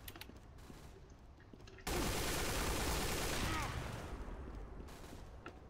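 Sustained heavy automatic gunfire from a sniper machine gun in Team Fortress 2, bursting in loud and dense after a quieter stretch and tapering off toward the end.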